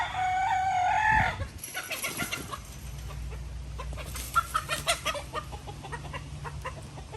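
Hens and a rooster in a farm coop: a rooster crows loudly and close at the start, then hens keep up scattered soft clucks and sharper calls at middle distance.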